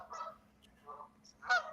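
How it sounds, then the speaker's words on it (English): Canada geese honk outdoors in the background, a few separate nasal honks spread over under two seconds, moderately faint and distant, with no speech over them. "Canadian geese in the background."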